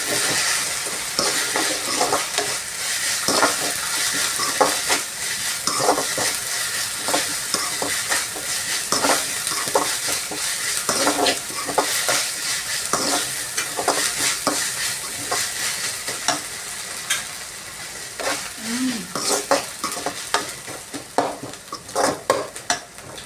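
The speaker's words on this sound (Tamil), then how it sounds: "கொஞ்சம் இஞ்சி கொஞ்சம் வாசனை போடுற வரைக்கும் கொஞ்சம் இது ஃப்ரை பண்ணணும்" Ginger frying and being stirred in a pan as the base for a chicken gravy: a steady close sizzle with repeated scraping stir strokes and occasional utensil clinks against the pan, no voices.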